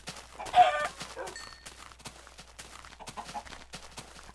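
Chickens clucking in the Minecraft video game, a few short close clucks and squawks scattered over several seconds, one louder burst early, with game footsteps and clicks between them.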